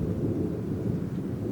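Thunder from a thunderstorm outside rolls as a deep, continuous low rumble, with a faint wash of rain, steady and moderately loud for the whole stretch.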